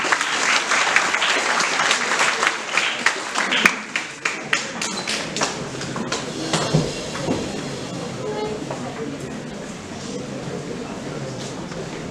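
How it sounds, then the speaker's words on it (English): An audience at a Human Rights Day panel event bursts into applause, dense and loud at first, then thinning into scattered claps and fading to a quiet room. "Everyone, again, with a big round of applause, please."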